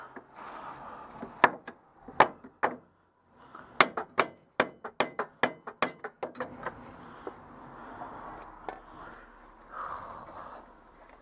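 A hammer strikes the front suspension arm of a Citroën 2CV with sharp, close metallic knocks, first scattered and then in a quick irregular run, before quieter handling noises.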